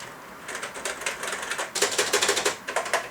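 Keys clatter on a TheC64 Maxi keyboard, a Commodore 64 replica, in quick, uneven bursts of crisp plastic clicks that grow faster and denser halfway through, close and clear with no talking.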